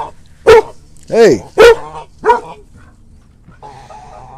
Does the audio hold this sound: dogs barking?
yes